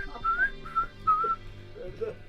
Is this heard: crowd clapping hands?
no